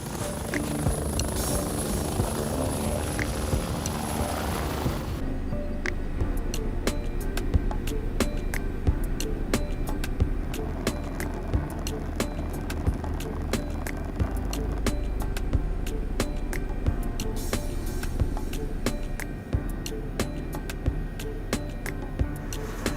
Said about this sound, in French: on va refaire un petit tour d'hélico parce qu'il faut rentrer